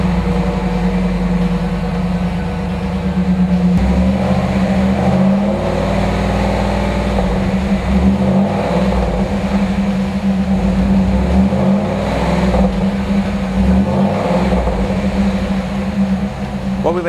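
A 1993 Chevrolet Camaro Z-28 Indy Pace Car V8 idles loud and close with a steady low rumble, then blips its throttle in several short revving surges that rise and fall over the idle.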